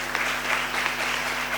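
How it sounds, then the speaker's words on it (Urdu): Church congregation applauding loudly and continuously for Jesus, a dense steady roar of many hands with no gaps, with a faint low hum running beneath. "Can you clip for Jesus? زوردار تالیاں خدا کے جلال کے لیے."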